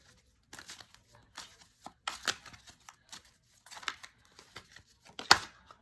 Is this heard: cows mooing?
no